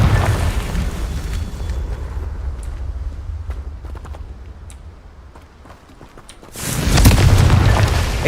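A Confringo blasting spell explodes in Hogwarts Legacy, a loud rumbling boom that fades to quieter clicks and crackles before a second heavy blast swells near the end.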